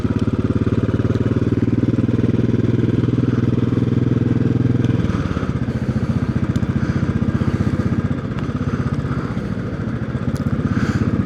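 A Royal Enfield Classic 500 motorcycle engine thumps steadily and loudly at close range, its rumble shifting in pitch partway through as it rides on at a constant pace.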